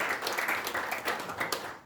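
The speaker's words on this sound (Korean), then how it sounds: "박수를 크게 한번 보내주시기" Brief, steady applause from an audience at an academic conference, many hands clapping densely at an even level.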